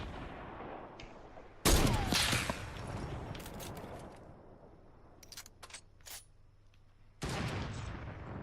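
Gunfire in a video game, with repeated loud bursts of shots cracking in separate volleys, a sharp broadband burst near the start and another toward the end, plus scattered single shots between.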